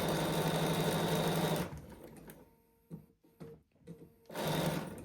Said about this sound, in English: I'm going to start sewing the other piece, my bottom piece